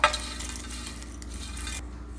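Fried dried prawns tipped into a mixer grinder bowl, a sharp clatter at the start trailing into soft rattling and scraping, close and without talk.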